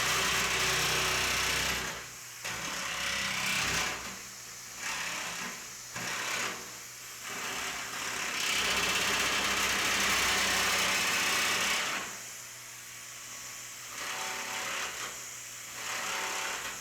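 A VEVOR 550W electric sheet metal nibbler at 2200 RPM chatters rapidly through sheet metal, running loud and close in several bursts with short pauses between cuts.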